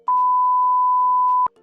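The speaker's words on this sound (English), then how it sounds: "It's gonna be a big beep." A single steady censor beep tone runs for about a second and a half, loud and clean, cutting across low background sound.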